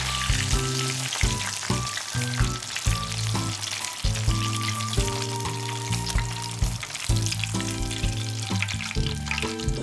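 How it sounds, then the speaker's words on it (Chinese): Small meat drumsticks deep-frying in oil heated above 200 degrees, a close, dense crackling sizzle with bursts of popping and bubbling, broken by brief clinks as the pieces are turned. "再开大火，将油温升高至200度以上，快速翻炸1分钟左右即可出锅备用"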